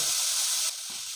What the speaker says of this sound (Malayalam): ഒരു മുക്കാൽ കപ്പ് വെളുത്തുള്ളി ചെറുതായി അരിഞ്ഞ് ചേർത്ത് കൊടുക്കണം നന്നായി വഴറ്റിയെടുക്കാം